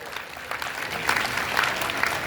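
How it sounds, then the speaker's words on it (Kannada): An audience at a World Disabled Day cultural programme claps for Krishnamurthy and his team, a brief burst of scattered applause that swells slightly, with faint crowd murmur beneath. "ಕೃಷ್ಣಮೂರ್ತಿ ಮತ್ತು ಅವರ ತಂಡಕ್ಕೆ ಒಂದು ಚಪ್ಪಾಳೆ ಕೊಡೋದ್ರ ಮುಖಾಂತರ ಧನ್ಯವಾದಗಳನ್ನು ಅರ್ಪಣೆ"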